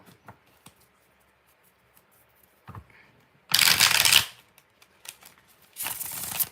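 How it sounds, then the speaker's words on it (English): Tarot cards being shuffled in two quick riffling bursts, each lasting under a second, close and clear against near silence. "4 shuffles"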